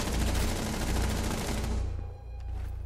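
Gunfire in the video game Rainbow Six Siege: a dense burst of rapid automatic shots that cuts off abruptly, followed by a quieter game-ambience hum and a faint single clink.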